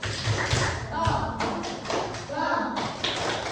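A primary-school class performs a clapping chant together, with bursts of rhythmic group claps and taps interleaved with children's chanting voices.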